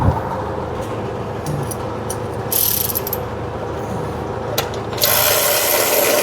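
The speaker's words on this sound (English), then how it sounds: "let me put the first screw in first" A power driver whirs in a short burst driving a screw during a fuel tank installation, then runs longer near the end, with mechanical clicks and rubbing between.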